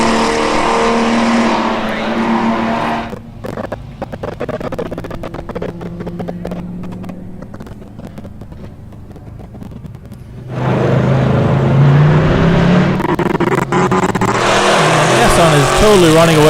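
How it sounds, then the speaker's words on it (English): A Camaro race car runs on the Laguna Seca track in a US Touring Car Championship race, its engine roaring loudly, easing off mid-clip and then surging again as it passes, with a commentator talking over it. "That car sounds so good. Very, very healthy Camaro."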